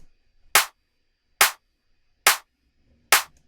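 A high-pitched, noisy clap sample from a progressive house track in Logic Pro X, played solo as four crisp, evenly spaced hits with short decays and silence between them.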